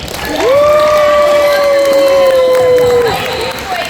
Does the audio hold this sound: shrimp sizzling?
no